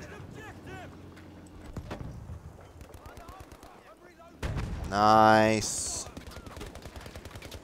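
French assault rifle fire in Battlefield V, with scattered distant shots and bangs followed by a louder burst, while someone talks briefly over the combat.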